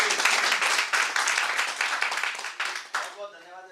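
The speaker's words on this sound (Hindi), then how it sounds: "एक बार जोरदार तालियां अतुल जी के लिए।" An audience at an insurance advisors' training session applauds a guest, a dense, steady wash of clapping that fills the room, easing off near the end as a voice begins speaking.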